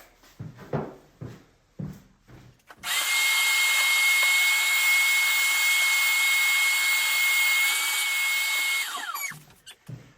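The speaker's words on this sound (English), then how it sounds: "think I'm going to vacuum some of this stuff up" A few knocks and handling sounds in a small workshop, then a vacuum cleaner whines on loudly and runs steadily for several seconds before winding down.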